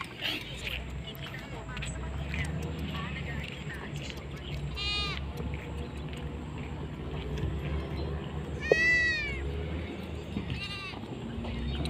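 Several cats meow near a riverbank in La Union, three or four drawn-out wavering calls rising over a soft bed of outdoor ambience and distant chatter.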